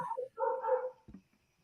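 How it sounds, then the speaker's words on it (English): A dog lets out a short burst of barks and yips close by, a couple of quick bursts followed by a softer trailing yelp, with no talking over it. "Sorry about my dog."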